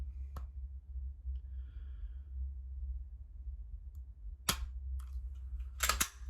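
A pistol dry-fired in a quiet room, a couple of sharp mechanical clicks from the trigger and slide, spaced apart over a low background hum with faint rustling between them.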